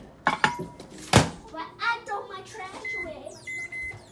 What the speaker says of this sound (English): we're going to put this in the microwave